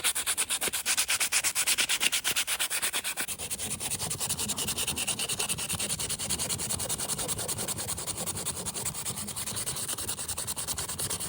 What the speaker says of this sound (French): Toujours le ponçage.